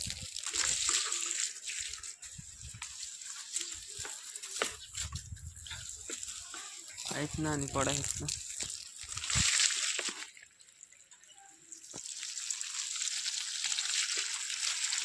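Irrigation water released into a crop field in a village, rushing and sloshing steadily at close range, with a brief voice speaking partway through and a dip in the flow near the end.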